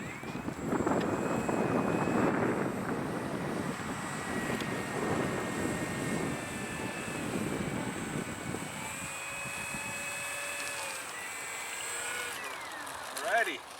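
An electric RC Hawker Sea Fury 1200 model plane in flight, a whirring motor drone with wind buffeting that fades and shifts in pitch as it passes at a distance.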